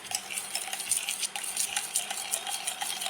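A spoon works through a thick honey and black pepper mixture for a homemade balm, giving quick, continuous clinking and scraping against the bowl, close and fairly loud with no talking.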